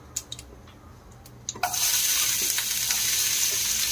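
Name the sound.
chopped onion frying in oil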